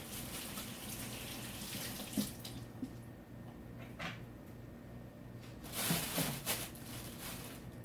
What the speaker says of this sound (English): I'm just going to wash my hands in between each one.